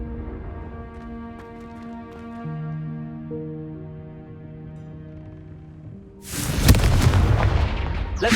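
A Confringo blast spell goes off in Hogwarts Legacy, a loud booming explosion bursting in after a stretch of sustained tonal game music and rumbling on to the end.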